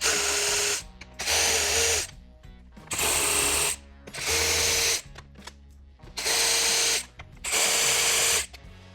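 A power tool whirs in six loud, evenly spaced bursts of about a second each, removing 10mm bolts from a 2025 Toyota 4Runner grille, with brief mechanical pauses between them.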